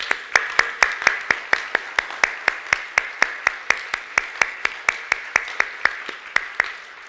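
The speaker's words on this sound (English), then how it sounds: "as we give you a round of applause for your ministry as fathers." Slow, rhythmic applause from a church congregation honoring fathers at a Sunday service, individual claps spaced evenly and sharply at close range, steady through the whole stretch with no talk.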